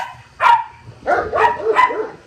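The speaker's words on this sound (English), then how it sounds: "Everyone's barking." Dogs bark in a series of about four sharp, fairly close barks with short gaps between them, heard alone without voices.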